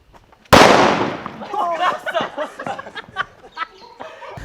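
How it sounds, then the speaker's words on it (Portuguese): A small firecracker bursts with one sudden loud bang, then trails off into crackling and fizzing while people talk and react around it. "Todo mundo esperando aquela bombinha mó,"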